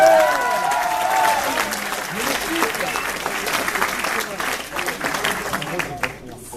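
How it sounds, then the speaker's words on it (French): An audience applauding during a stage pitch, a sustained wash of clapping hands from a crowd that slowly fades, with a voice talking over it. "Oh, ça vaut des applaudissements"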